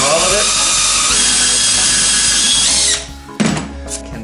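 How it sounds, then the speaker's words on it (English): A power drill bores through layered 5/8 plywood for a carriage bolt during wooden boat stem building, a loud steady whine for about three seconds before cutting off, followed by a short thunk and settling noise. "I'm just going to arbitrarily drill a hole somewhere through here"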